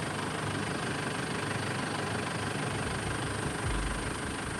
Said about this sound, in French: C'est un hélico du Lodge!